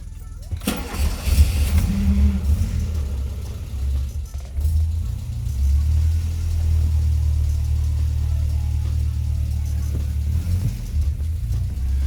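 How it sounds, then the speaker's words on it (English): A Toyota Corolla KE55 with a carburettor starts without choke on the first try, a short crank catching into a steady low idle rumble that stays close and even. "So that was a chokeless start just then, and it fired up first time"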